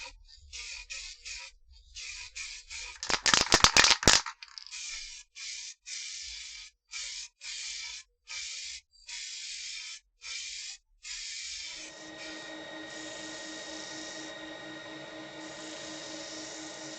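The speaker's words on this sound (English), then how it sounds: "I'm going to be finishing with some lacquer. See, I've got a proper respirator on. Very important when you're spraying." Short bursts of lacquer spray hissing from a spray gun onto a textured oak vase, repeated in a steady on-off rhythm, followed by a softer continuous hiss with a faint whine.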